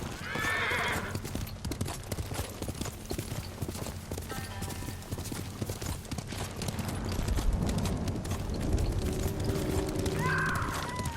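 Horse hooves pound in a steady galloping clip-clop in the samurai video game Ghost of Tsushima, with loud whinnies near the start and end and a rumbling ambient bed.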